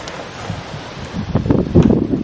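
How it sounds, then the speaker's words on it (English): Wind buffets the microphone with low rumbling gusts that grow stronger toward the end, with faint rustling underneath, outdoors during deer season in November. "But it's just too windy today."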